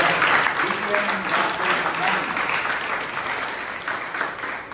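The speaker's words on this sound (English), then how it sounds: "please give a huge round of applause to our table topic master" At a Toastmasters club meeting, the room gives a round of applause, a steady rush of many hands clapping together that holds evenly and eases slightly toward the end.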